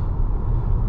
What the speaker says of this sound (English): The only real thing I'm hearing is the tire noise.